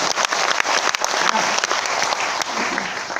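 Loud, dense applause fills a seminar hall at an RCM business meeting in Bhilwara, Rajasthan, as a large audience claps steadily and vigorously throughout with a few sharper claps standing out.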